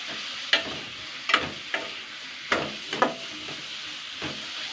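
A spatula scrapes through gram flour mixed with egg and pumpkin in a pan, giving a quiet bed of frying with about seven short, spaced stirring strokes and no voices.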